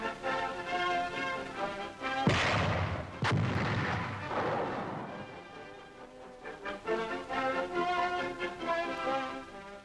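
A 1942 4.2-inch chemical mortar fires a couple of sharp, booming blasts in quick succession, loud and close, set against a continuous orchestral music bed.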